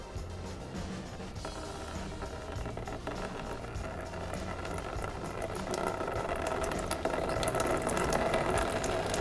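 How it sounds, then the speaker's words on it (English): Coolant dribbling and streaming out of a Vulcan 750 motorcycle's cooling system despite the drain plug still being in, a steady trickling, gurgling flow heard up close that grows slightly louder over the clip. "I'm getting dribbles, a nice stream of coolant coming out."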